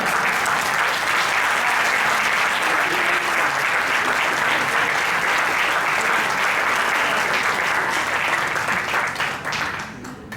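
A live audience applauds loudly and steadily throughout, a dense wash of clapping hands that fades out near the end, with no talk over it.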